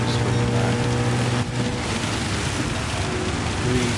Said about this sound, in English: you can see the rain pelting the windscreen there